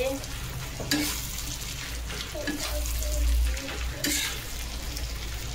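Boiled potatoes fry in a pan for a fish-head and rice muri ghonto, a steady moderate sizzle with scraping stir strokes around the one and four second marks.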